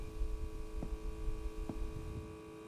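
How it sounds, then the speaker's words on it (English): Overhead incandescent lights in a video game give off a steady electrical hum with faint tonal lines, low and continuous, with a couple of soft thumps and no speech. "the sort of incessant buzzing of the incandescents above does have a sort of white noise effect on my mind"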